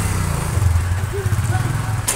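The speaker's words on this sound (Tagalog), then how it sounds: "umabit yung motor" A motorcycle engine runs close by with a low, steady rumbling putter that continues throughout, mixed with surrounding activity.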